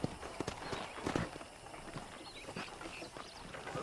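Horse hooves clip-clop steadily at close range in the Western video game Red Dead Redemption, a brisk rhythmic trot over a continuous outdoor ambience with faint bird-like chirps.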